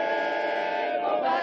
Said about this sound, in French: La foule entonne la Marseillaise.